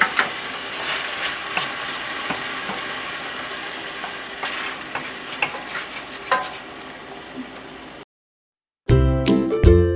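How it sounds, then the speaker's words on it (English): Singapore noodles with red pepper flakes fry in curry sauce, a steady close sizzle broken by scraping stirs, then a short silence before a brief louder burst of clatter at the end. "now we're gonna cook this for about 4 minutes along with the curry sauce"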